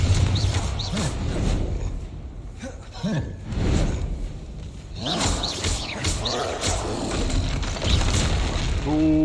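Explosive blasts and rumbling booms from the Confringo fire spell in the video game Hogwarts Legacy, over continuous game music and effects, with a voice heard at times.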